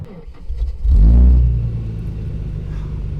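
A 1998 Ford Mustang engine surges into a loud, close rumble, then sags and dies down to a low uneven idle rattle as it stalls.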